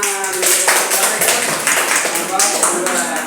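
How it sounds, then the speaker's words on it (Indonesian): A classroom group in a teaching practicum session claps together in several distinct bursts, fairly loud and close, with voices mixed among the clapping. "Oke, tepuk tangan."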